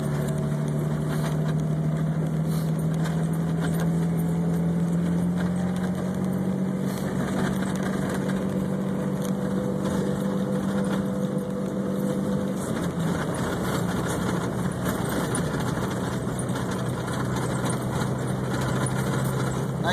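A Jeep Cherokee drives in 4x4 high, giving a steady, continuous engine drone and road rumble heard from inside the vehicle, with a slight shift in pitch partway through.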